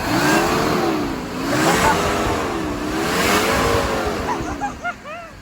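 A Mercedes W124 engine runs steadily with a whooshing cooling fan noise over it, the tone rising and falling in slow waves, ending with a few brief chirps.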